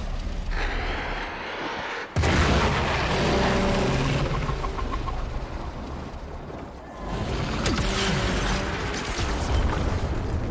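A loud blast in the video game Warframe: Heart of Deimos, a sudden burst followed by a sustained roar of rumbling debris and mechanical clatter, dipping briefly before a second swell of crashing noise.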